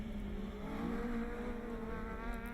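Onboard a Honda Civic rallycross car at a French championship round in Lavaré, the engine drones loud and steady with a sustained buzzing tone and slight pitch shifts, heard close from inside the cockpit.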